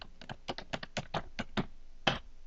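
Quick keystrokes on a computer keyboard, around a dozen crisp close taps in an uneven burst ending with a firmer final press, quiet and with no voices.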